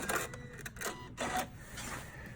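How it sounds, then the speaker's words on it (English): A sewing machine binding a quilt stops stitching and trims its threads, giving a few quiet, short mechanical whirring bursts and clicks. "So I'm going to push my stop button and have it stop right at the end of this side here. Going to cut my threads off."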